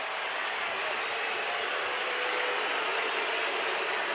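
Arena crowd at an NCAA Tournament basketball game between North Carolina and Iona roars in a dense, steady wash of noise after an offensive foul call, loud and continuous throughout with no clear voice rising above it.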